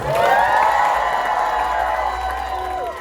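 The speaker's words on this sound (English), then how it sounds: "please give the new Mr. and Mrs. Prasad a huge round of applause" Wedding guests at a Hindu vivaah ceremony cheer and applaud the newly married couple, a loud crowd roar of clapping with whoops and raised voices, strongest at the start and easing slightly as it continues.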